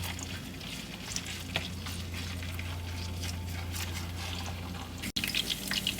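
Fish cakes frying in oil in a wok for rice noodle stir-fry (char koay teow), a steady close hiss and gentle bubbling sizzle with a low continuous hum underneath, briefly cut near the end.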